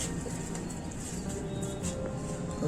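Soft, low coos from breeder pigeons roll repeatedly against steady background noise, fairly close and continuous.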